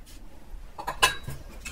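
A utensil stirs kiwi seeds into a natural scrub in a small container, making a few soft scrapes followed by one sharp, close metallic clink and a light tap.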